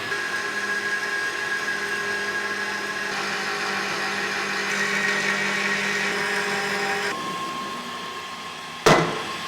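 A power saw cuts through steel tube for welding table legs, a loud continuous whining drone that shifts in pitch as the blade works through the metal, ending with a sharp clank.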